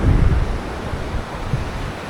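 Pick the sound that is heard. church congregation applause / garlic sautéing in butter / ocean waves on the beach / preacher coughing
ocean waves on the beach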